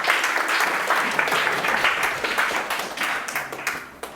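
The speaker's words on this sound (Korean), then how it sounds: "나오실 때 큰 박수로 환영해 주십시오" A workshop audience gives a speaker a dense, sustained round of applause as he comes forward, loud and continuous, easing slightly toward the end.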